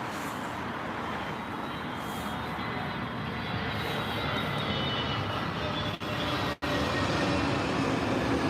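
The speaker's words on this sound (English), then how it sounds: "So next inbound is the Swiss A320neo from Zurich." A Swiss Airbus A320neo arriving from Zurich at London Heathrow gives a steady, loud, broadband engine roar that holds throughout, with two brief dropouts near the end.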